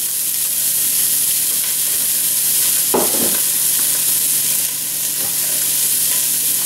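Finely diced onions frying in a hot pot for chili with beans, a steady close hiss with one brief burst of stirring and scraping midway.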